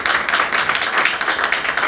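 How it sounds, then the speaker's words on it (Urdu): A church congregation clapping loudly together in praise, dense steady rapid claps filling the room without pause. "آئیے خداوند یسوع مسیح کے لیے زوردار تالیاں بجائیں۔"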